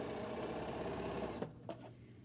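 A sewing machine stitches the dart of a jelly roll quilt block, a close, quiet, fast whirring run that stops abruptly, followed by a couple of faint clicks.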